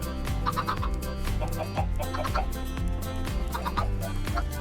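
Chickens cluck in a Minecraft survival world on a ComputerCraft chicken farm, short repeated in-game clucks over steady game music with no talk.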